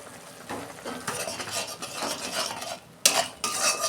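Ground spice paste with turmeric and salt sautéed in a pan, uneven stirring scrapes and clinks of a spoon against metal over a soft sizzle, with a sharper knock near the end.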